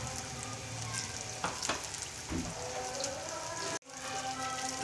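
Banana slices frying in hot oil for banana chips give a steady, dense sizzle and crackle throughout, with a few stirring clatters and a brief dropout near the end.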